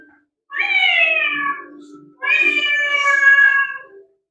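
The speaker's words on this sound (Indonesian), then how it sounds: "dan suara kucing." A cat meows twice, two long, plaintive calls with a brief pause between them, close and loud.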